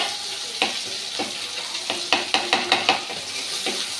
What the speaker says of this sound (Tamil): இதையும் அப்படியே அதில் கொட்டி கிண்டி எல்லாத்தையும் கிண்ட வேண்டியதுதான்